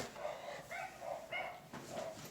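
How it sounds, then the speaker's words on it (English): Dogs barking outdoors on a rainy street, a few repeated barks and yips in quick succession at moderate distance, clear over steady background hiss. "Dogs are upset about something."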